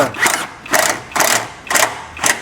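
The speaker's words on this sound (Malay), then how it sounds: "Kita tinggal ikat saja skru 14 ni" Ratchet wrench tightening a size 14 screw on a gearbox mount, five loud, close clicking bursts in a steady back-and-forth rhythm with short gaps between strokes.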